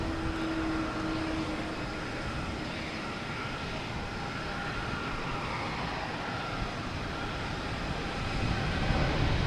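Hainan Airlines airliner at Boston Logan, a steady low engine drone with a brief tonal hum at the start, moderate and continuous at a distance, no voices.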